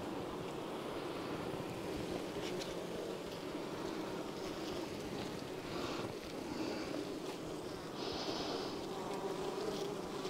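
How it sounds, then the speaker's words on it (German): Honeybees in an opened beehive with few bees, giving a continuous soft buzzing drone at moderate distance, steady throughout, with no talking. "Das sind ziemlich wenig Bienen."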